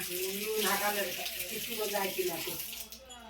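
Water is poured over sprouting seedlings at a family home, splashing and trickling steadily for about three seconds before tapering off, with a voice talking softly underneath.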